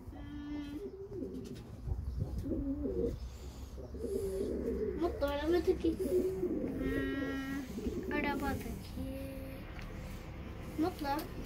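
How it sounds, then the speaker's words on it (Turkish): Pigeons coo repeatedly in a backyard coop, soft low calls rising and falling over several seconds, mixed with people talking nearby. "Arabanın arkasındaki kuşları gördün mü Yusuf?"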